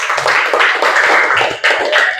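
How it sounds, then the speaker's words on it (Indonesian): Students in a classroom clap for group 3 after their presentation, a loud, close round of applause lasting a couple of seconds with a brief dip before resuming. "beri tepuk tangan dulu kelompok 3 ya"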